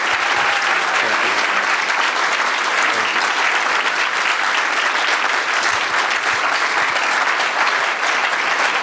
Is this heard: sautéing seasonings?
no